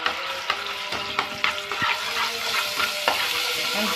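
Garlic and shrimp fry in oil in a pan with a steady, close sizzle, broken by sharp clicks and scrapes of stirring and a few louder bumps. Nobody speaks.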